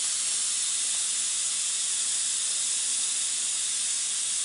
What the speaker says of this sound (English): So we're gonna release the pressure.